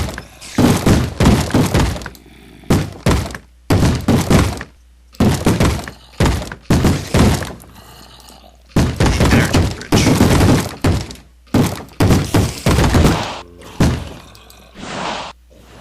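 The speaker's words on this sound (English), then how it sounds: "that's a 5x5 explosion that's really devastating" A 5x5 explosion in the Minecraft Forgecraft modpack, heard as a long series of loud, sharp broadband bursts and crunching blasts spaced by brief gaps, with no speech.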